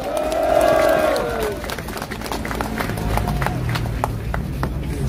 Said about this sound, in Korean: 함세용 신부님을 큰 박수로 모시겠습니다